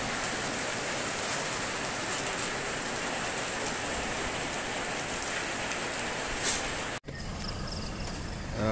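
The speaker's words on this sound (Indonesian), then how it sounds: "Cuaca masih hujan lagi, tidak berhenti lagi." Steady, heavy rain hisses continuously on a surface, then a brief break before the downpour resumes.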